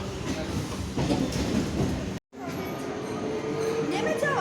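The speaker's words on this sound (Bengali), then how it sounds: "ট্রেন চলে যাচ্ছে, পাঁশকুড়া লোকালে এলাম" A Panskura local train pulls out of a station, its steady loud rumble and clickety-clack of wheels filling the air, with a brief dropout midway and faint voices in the background.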